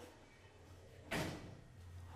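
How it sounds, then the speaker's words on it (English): Elevator doors in a mall pavilion slide shut with one brief whoosh and bump, set against a low steady hum of the cab and its machinery. "we're going to let the doors close and get a cab view"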